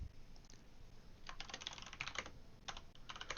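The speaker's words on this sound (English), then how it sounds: "Typing." Typing on a computer keyboard in an online class setting, rapid irregular clatter of key presses in short bursts with pauses, fairly close and clear, no talk.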